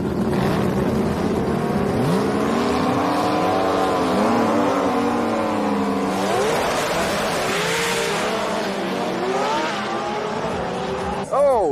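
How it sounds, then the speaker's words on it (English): Drag race cars at an import drag racing event roar down the strip, engine notes rising and sweeping through gear changes, loud and close, with an announcer talking over the noise throughout. "Downing gets in front and blasts down the strip, taking the win light with a 707 at 196 miles an hour"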